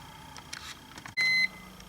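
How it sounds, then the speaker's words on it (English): A BMW door-open chime sounds with the key in the ignition, a single sharp electronic beep held for about a quarter second, loud and close against a quiet cabin. "Now I have the key in the ignition with the door open, which that beeping is absolutely annoying"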